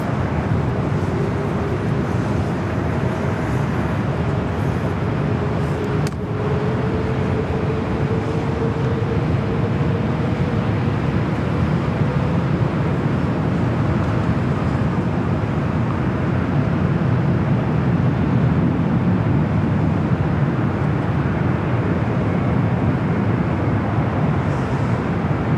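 An airliner rolling for takeoff at Los Angeles International Airport, a steady loud jet roar with a faint rising whine, constant and broad throughout, with no talk over it.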